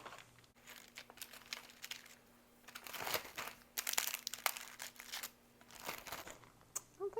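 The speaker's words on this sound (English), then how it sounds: "So I'm going to put them in a Ziploc bag." A plastic Ziploc bag crinkles and rustles in close, irregular bursts as Oreo cookies are dropped into it, the handling quiet and uneven with brief pauses.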